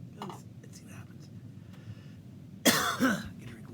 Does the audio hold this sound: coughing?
yes